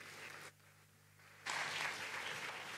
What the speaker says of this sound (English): A round of applause for President Macky Sall, please.